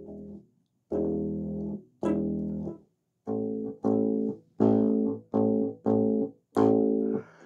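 An electric bass played through a wireless guitar system with distortion, a series of separate plucked notes, each held briefly then cut off, loud and close with gritty overtones.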